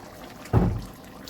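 A brief splash of water poured into a pot of whole masoor dal, a short gush lasting under a second against quiet background.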